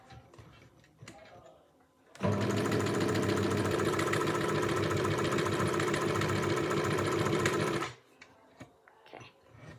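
A sewing machine stitching a wallet runs in one continuous loud, steady mechanical whir for about six seconds, starting abruptly and stopping abruptly, with quieter handling sounds before and after.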